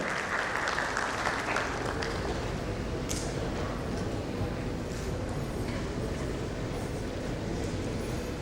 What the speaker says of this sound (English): A big round of applause to Ms. Roshni for her wonderful contribution